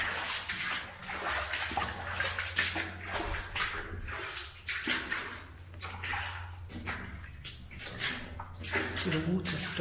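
Boots wade and splash through deep water inside an abandoned service tunnel in Kent, the sloshing coming in uneven surges over a low hollow rumble, close and fairly loud.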